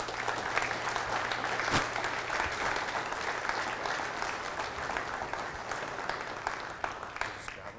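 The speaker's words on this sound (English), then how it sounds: "everybody give him a round of applause" An audience at a membership meeting applauds steadily for a speaker, a dense moderately loud clapping that holds for the full span with a faint low hum beneath.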